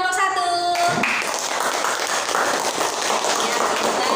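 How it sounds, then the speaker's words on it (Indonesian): A grade 5 classroom of pupils claps for the first group after its presentation: a brief voice, then a dense, even patter of hands that holds steady to the end. "Ya, tepuk tangan buat kelompok 1."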